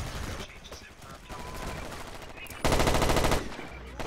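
Automatic gunfire in the futuristic shooter Battlefield 2142, a steady burst of loud rapid shots near the end with scattered distant shots and game sounds before it.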